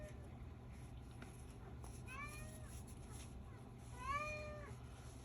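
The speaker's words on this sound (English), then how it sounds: "that cat's so obnoxious" A cat meows repeatedly in the background of a quiet indoor room, two distinct rising-falling calls about two seconds apart, the second louder, over a low steady hum.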